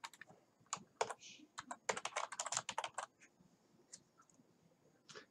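Typing on a computer keyboard while entering a member ID field name in Access 2019: a rapid burst of sharp clicky keystrokes, close and fairly quiet, with short pauses between clusters and no speech.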